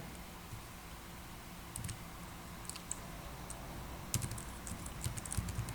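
Quiet keystrokes on a computer keyboard while a matrix is entered, sparse at first and then quicker clusters of soft clicks over a faint background hum.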